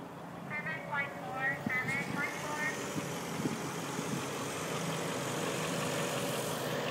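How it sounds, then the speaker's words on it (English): A Mercedes E55 AMG engine idles with a low, steady rumble that continues throughout, while a person talks over it at the start. "that way you can hear the engine"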